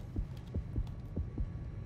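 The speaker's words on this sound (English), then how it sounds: "Oh God, heartbeat faster." In the underwater shark game Depth, a heartbeat sound effect thumps in a steady, paired rhythm of about five beats, low and muffled over a faint hum.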